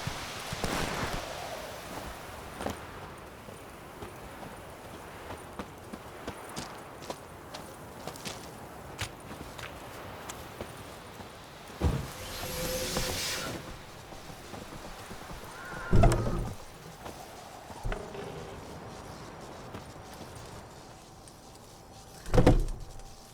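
Roach, a horse in The Witcher 3, trots along with soft, even hoof clip-clops. Several sharp whinnies burst out loud above the hoofbeats, and faint game ambience sits underneath.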